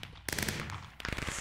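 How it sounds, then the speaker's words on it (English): Fireworks bursting from Day Bloom flowers in the Minecraft Botania mod, two rapid crackling volleys of sharp pops in quick succession, close and fairly loud, with no talking. "I love the fireworks."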